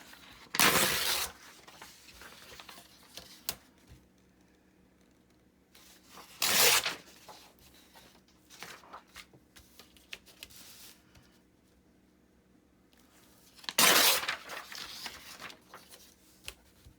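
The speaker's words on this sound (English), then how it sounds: "let's take the edges off this music paper" Music paper being torn along its edges by hand, three separate quick rips spaced several seconds apart, close and crisp, with soft handling rustles between them in a quiet room.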